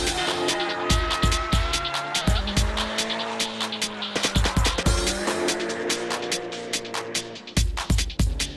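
A car drifting sideways through a corner, tires squealing in long sustained wails over a loud engine, with repeated sharp bursts and clatters as the car slides and changes direction.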